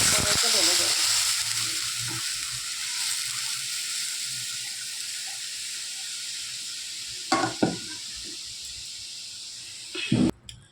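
Yogurt and gram flour batter for kadhi goes into a hot pan over tempered curry leaves, giving a steady close sizzle and hiss throughout, with a couple of brief louder clatters near the end.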